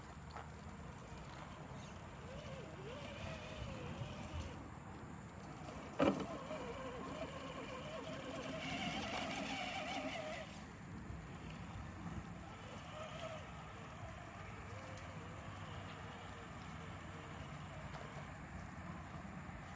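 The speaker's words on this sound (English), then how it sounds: "this is so close to the highway, all you hear is the sound of the cars" Car traffic on a nearby highway passes as a constant low rumble with swelling whooshes of passing vehicles and one sharp knock partway through, steady and somewhat distant.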